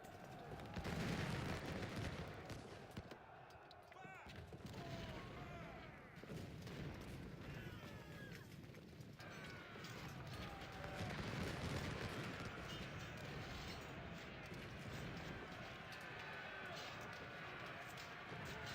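Civil War battle in the Ultimate General: Civil War strategy game. Massed musket gunfire and booming cannon shots roll on continuously as a dense, loud wall of battle noise.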